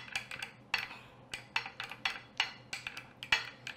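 A spoon scrapes and clinks against a bowl while mayonnaise sauce is stirred, a quick irregular series of bright taps, close up and without talk.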